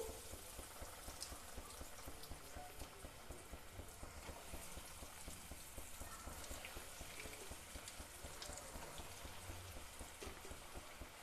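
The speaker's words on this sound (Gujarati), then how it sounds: "હવે આપણે એમાં આપણે આ નાસ્તાને જવા દેશું અને તળી લેવાનું છે" Quiet, steady bubbling crackle of potato snacks frying in hot oil, faint and continuous throughout without any voices.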